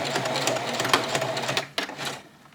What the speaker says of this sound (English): pivot so that you can sew directly towards the corner